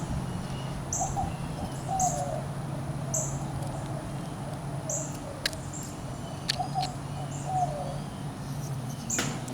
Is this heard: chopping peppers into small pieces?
no